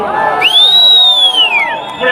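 A big crowd roars and cheers at an AIADMK political rally for former Chief Minister Edappadi Palaniswami in Villupuram district, with a loud, long sliding whistle cutting across the dense, continuous noise.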